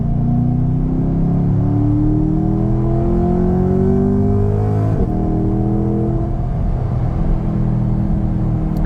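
A Corvette C8's big mid-rear-mounted V8 accelerates hard from inside the cabin, a loud, deep engine roar climbing steadily through the revs. A gearshift breaks it around the middle, then the roar pulls up again, with no talk.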